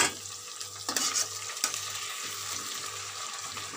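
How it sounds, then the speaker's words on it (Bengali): Garlic fries with browned onions in a pan, a quiet continuous sizzle with a couple of brief spatula scrapes near the start, heard close with a faint low hum beneath. "রসুনটা ভালো করে ভেজে নেব যাতে কাঁচা গন্ধটা চলে যায়"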